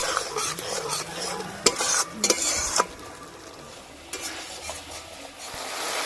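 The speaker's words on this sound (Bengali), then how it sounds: "কাজু বাটা দিয়ে আবারও একটু কষে নেব।" Spice paste and cashew paste for vegetarian dhokar dalna are stir-fried in a pan, with steady sizzling broken by several sharp metallic scrapes and knocks of the spatula.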